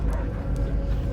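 A dog barking in the Guardians of the Galaxy video game, a couple of short barks over a dense low rumbling game soundscape, fairly loud and close, with no talk.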